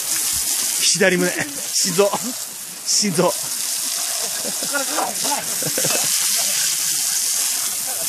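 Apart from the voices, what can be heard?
shower water running from a hose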